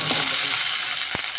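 Dal, onion and garlic frying in a hot pan, with a steady broadband sizzle throughout and one sharp scrape of stirring near the end.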